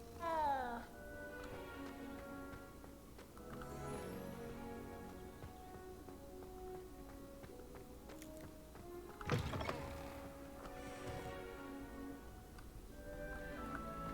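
A cat meows in Hogwarts Legacy, its calls rising over steady game music and ambient sound, with a sharp thump near the middle.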